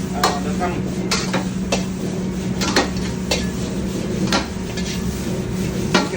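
Fried rice worked in a hot wok with full tossing motions, repeated sharp metallic clanks of spatula on wok at an uneven rhythm over steady sizzling, close and loud, with a voice talking throughout.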